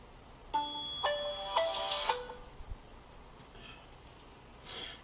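A Samsung Galaxy S5 phone plays its startup sound: a short series of bright, chiming electronic tones over about two seconds, fairly quiet and close, followed by a faint soft chime a little later.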